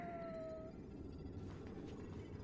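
A cat jello creature in Honkai: Star Rail gives a faint, drawn-out meow over a low game background hum.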